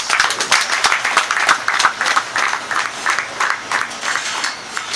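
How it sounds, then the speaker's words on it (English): At a police honouring event in Edo State, an audience gives resounding applause for the PCRC, loud, full clapping that pulses in a rough rhythm for several seconds with no speech. "give them a big resounding applause"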